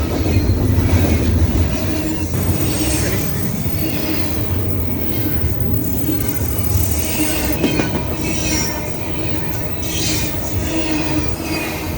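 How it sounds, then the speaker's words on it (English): A train rumbles past nearby in the boreal forest of Wabakimi, loud and continuous, with rattling wheels and occasional metallic squeals over the steady roar. "I guess there's trains on railroads, isn't there?"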